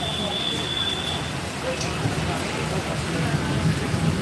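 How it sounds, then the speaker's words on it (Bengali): Long-awaited rain falls steadily in Belgharia, a continuous dense hiss of drops spread evenly across the whole stretch, with no clear voices over it. "এই বৃষ্টিটা সত্যিই খুব দরকার ছিল"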